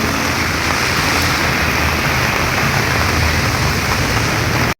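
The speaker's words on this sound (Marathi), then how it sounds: "पाऊस अजून वाढला आहे अजून जोर भरपूर वाढला आहे पावसाचा" Heavy monsoon rain pours steadily in Dapoli, Konkan, in a dense, unbroken hiss, loud and close throughout, with no voices.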